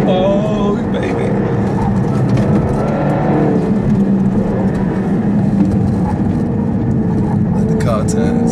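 A 2015 Dodge Hellcat, Charger or Challenger, accelerating hard with a loud, sustained engine roar that rises and holds for several seconds, with people talking over it.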